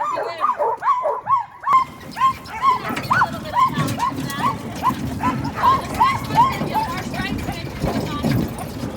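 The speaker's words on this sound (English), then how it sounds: "We were amazed by the strength and power of the dog sled team." A sled dog team barks and yips excitedly in rapid repeated bursts, close by, with whimpers mixed in; people talk over the barking.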